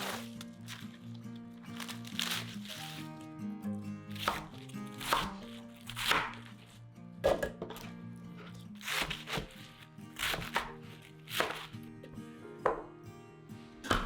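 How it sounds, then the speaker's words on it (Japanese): Napa cabbage, half a head, is cut on a board into 3–5 cm wide pieces, producing a steady series of close, crisp knife chops in uneven rhythm, with a faint low hum behind and no talking. "白菜は2分の1玉分をすべて3センチから5センチ幅のざく切りにします"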